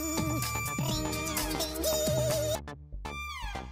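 A melodic electronic phone ringtone plays a bright, looping tune, briefly cutting out before chiming again.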